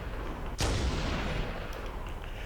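One sharp, loud blast of allied gunfire in the Halo video game, a sudden heavy shot with a booming low tail that decays over a second against steady background noise, no talking.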